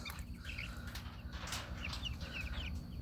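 Meat bird chickens in a PVC chicken tractor give soft, scattered clucks over a steady low background hum.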